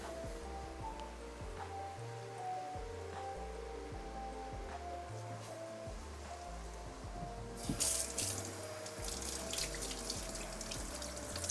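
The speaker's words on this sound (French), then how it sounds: "je vais quand même rincer ça" Water runs steadily from a kitchen tap while something is rinsed under it, a continuous close splashing wash that grows brighter and louder near the end.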